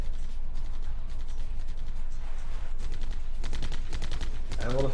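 Game units, including miners and mortar quads, fire on buildings in a real-time strategy game: rapid, rattling bursts of gunfire that turn into a sharper volley near the end, with a brief tonal chirp in the last second.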